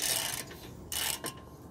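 A half-inch ratchet with a 17 mm socket on a stuck brake bolt of a 2010 Toyota Yaris is struck, giving two or three sharp metallic knocks and clicks amid close workshop noise, with no speech.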